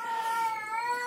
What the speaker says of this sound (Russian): кошка заорала